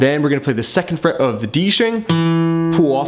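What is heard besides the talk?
No everyday noises stand out.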